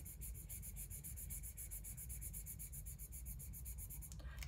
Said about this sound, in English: There's actually a sound as well when you're colouring over the powder.